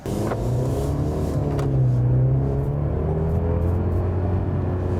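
A 2024 Mercedes-Benz C-Class 4matic sedan accelerates, its engine note a steady, smooth rising hum heard from inside the cabin, continuous and moderately loud without talk.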